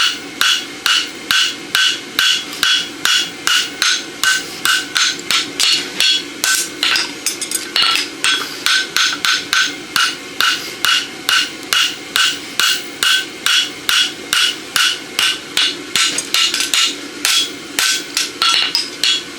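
Hammer strikes on a steel roadster horseshoe held on an anvil during forging, a long run of loud, closely spaced metallic blows in a steady rhythm with only brief pauses, heard alone without talk.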